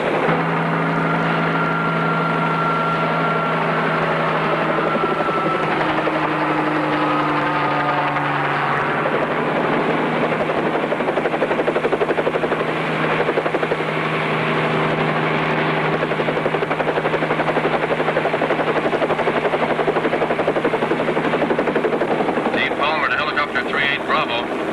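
A helicopter flies with a loud, steady rotor and engine roar that fills the whole stretch, its pitch drifting slightly as it goes, with no clear talk on top.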